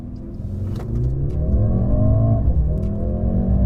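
A Mercedes-AMG GLC43 SUV, over 420 PS, accelerates hard from a standstill, its engine note climbing steadily and loud, close by, with no talk.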